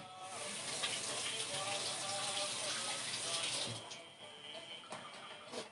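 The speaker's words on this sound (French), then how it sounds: "Je vais rincer mes mains vite fait." Tap water runs steadily as hands are rinsed under it in a home kitchen, a continuous broadband hiss with faint splashing that eases slightly near the end.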